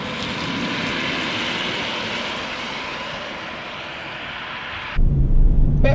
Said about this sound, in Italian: facciano sentire il suono dell'accelerazione del motore elettrico.